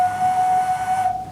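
A handmade clay whistle, with air passing a wedge and resonating in the clay body, gives one steady, sustained pure tone for just over a second before cutting off, heard alone at close range.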